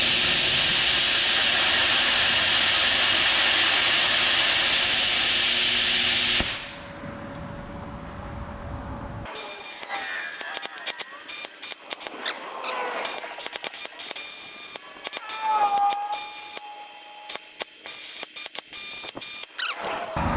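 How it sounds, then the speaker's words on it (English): A plasma cutter slicing thick steel for a tractor bucket hook gives a loud, steady hiss with a harsh, dense tone for about six seconds, then stops; softer crackling, clicks and clattering shop noises follow. "I'm going to see what the plasma cutter will do to this"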